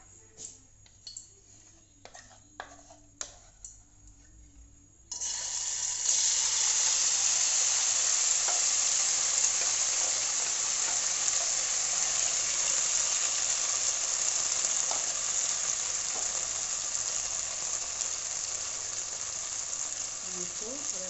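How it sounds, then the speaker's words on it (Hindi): Paneer fries in a pan over a low flame. A few quiet seconds of light clinks give way to a loud, steady sizzle that holds close and constant to the end. "फ्राई करने के समय में लो फ्लेम में फ्राई करना है।"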